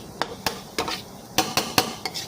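Metal spatula scraping and knocking against a pan while tamarind is stir-fried with a little sugar, a run of sharp, evenly spaced clacks and scrapes with no talking.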